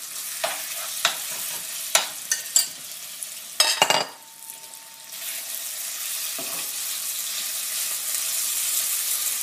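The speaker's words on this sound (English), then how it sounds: "Before it changes color, we're going to add our beef." Beef tenderloin goes into a hot pan with black pepper for a Chinese stir fry: a run of utensil knocks and clatter, then a loud burst as the meat lands, settling into an even, steady sizzle.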